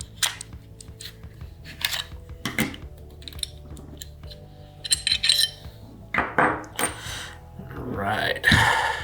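Metal parts of a pistol set up for show use, with no firing pin, clink and clatter as it is field stripped, giving sharp, irregular close clicks and scrapes mixed with bursts of handling noise.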